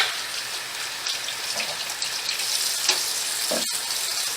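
Tap water runs steadily over little potatoes being rinsed in a kitchen, a continuous hissing splash with small clatters, close by.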